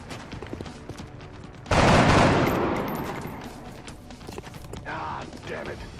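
A single gunshot in the video game XCOM: Enemy Unknown: one sudden, loud, broad burst that rings out and slowly fades over a few seconds, set against quieter game background sounds.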